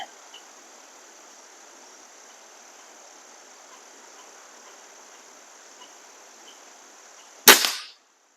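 A single sharp crack from a Weihrauch HW35E air rifle firing at a 25-yard target, loud and near, breaking a long stretch of steady insect-like background hiss near the end.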